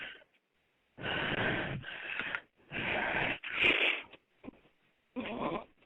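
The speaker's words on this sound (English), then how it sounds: "Good. Nice breathing." Deep, forceful breaths in a guided breathing exercise come as four or five loud, close, wheezy bursts, each lasting about a second, with short quiet gaps between them.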